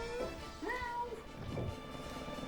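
A person's voice imitates a cat, giving a couple of drawn-out, wavering meows close to the mic over faint background hum.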